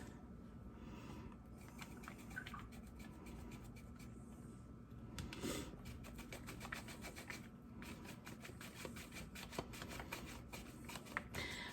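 Produce is sliced thinly on a sharp mandolin slicer in a home kitchen, giving a steady run of quick, quiet scraping strokes in close succession.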